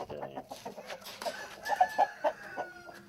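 A Bangkok-breed chicken clucks close by in a quick series of sharp, throaty calls, louder toward the middle, with faint background sounds around it.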